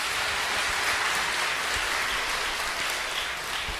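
A church congregation applauding at a Sunday revival service, steady dense clapping filling the room throughout at an even level, with no talk over it.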